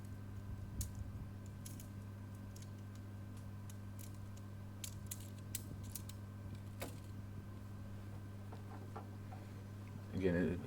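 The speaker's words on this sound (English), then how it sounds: "start folding the rods" Segmented tent rods of a Napier Backroadz truck tent are folded, producing scattered small clicks and creaks over a steady hum, ending with a louder rustling clatter near the close.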